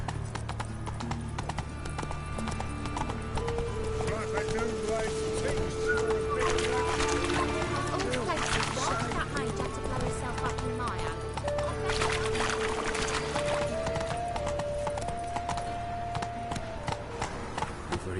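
Horse hooves clip-clop steadily in The Witcher 3: Wild Hunt, with a continuous rhythmic gait running throughout, mixed with game music and occasional voices talking over it.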